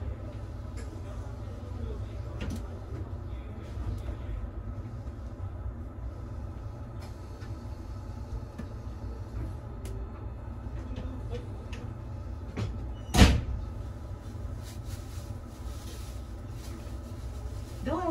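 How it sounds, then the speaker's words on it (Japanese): Doors on a Meitetsu Panorama Super rapid limited express train: one loud thud of a door stands out once against a steady low rumble inside the carriage, with faint voices in the background. "ドアが開きます。"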